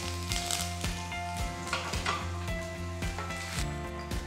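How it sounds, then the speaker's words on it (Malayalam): Sliced garlic cloves and a small piece of ginger sizzle steadily in hot oil for a rasam, with a dense crackling hiss and a few light utensil clicks. No voices. "ചൂടായ എണ്ണയിലേക്ക് നമുക്കൊരു 6 അല്ലി വെളുത്തുള്ളി സ്ലൈസ് ചെയ്ത് ആഡ് ചെയ്യാം"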